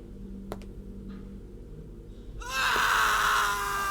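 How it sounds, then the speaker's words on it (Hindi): A sudden, piercing scream erupts midway after a stretch of low background hum and continues loudly to the end. "कुंवर सूरज की चीख सुनते ही सब हक्के बक्के रह गए"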